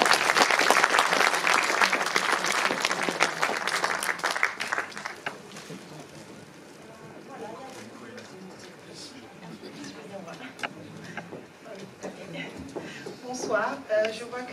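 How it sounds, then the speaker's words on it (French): An audience at a Congolese diaspora women's honoring ceremony in Belgium gives a loud burst of applause that fades after about five seconds into murmuring chatter, with a voice speaking over it. "Bravo, on peut l'applaudir."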